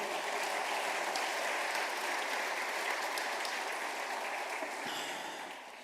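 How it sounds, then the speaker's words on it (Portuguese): Applause from a church congregation, a steady wash of many hands clapping at moderate distance, continuous and fairly even before easing slightly at the end. "Dê um aplauso a ele"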